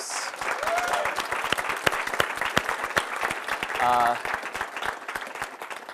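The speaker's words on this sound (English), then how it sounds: "if we could get a round of applause for the organizers" Audience applause for the event organizers at an atheist student gathering, a steady wash of clapping from a crowd that swells near the end, with a voice and some cheering heard over it.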